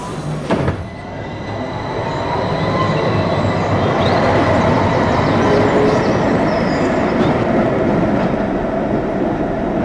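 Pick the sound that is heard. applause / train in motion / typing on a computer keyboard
train in motion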